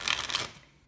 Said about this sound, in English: So I'm going to give it a quick shuffle.